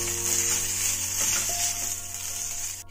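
Rice frying in a pan with chillies, cumin and curry leaves, a steady close sizzle and crackle with a brief stirring scrape partway through.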